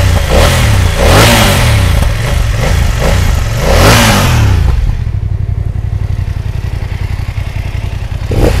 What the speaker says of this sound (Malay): kita cuba start tengok ini BMW F900 XR bunyi condition macam mana